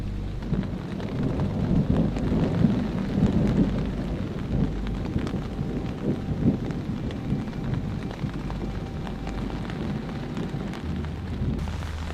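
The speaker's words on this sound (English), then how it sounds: "without a doubt, there's a thunderstorm out there" A thunderstorm rumbles outdoors at a campsite, with deep rolling thunder and a constant wash of heavy rain, loud and sustained throughout.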